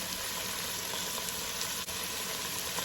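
A small bay leaf and a sprig of thyme sizzling in hot olive oil in a Dutch oven, a steady, even crackling hiss throughout with a brief soft clink near the end.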